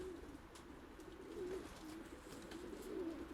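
Racing pigeons coo softly in a loft, with several low, rolling calls repeating over a quiet background.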